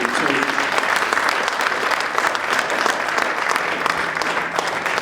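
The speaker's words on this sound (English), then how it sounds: "give them a big round of applause for the tape" A crowd at a restoration of civil rights event breaks into sustained applause, a loud, even roar of many clapping hands that holds steady throughout.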